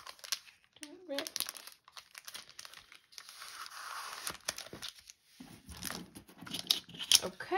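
Plastic sleeve crinkled and handled up close, scattered bursts of crackling and rustling with brief pauses, while a person talks softly over it.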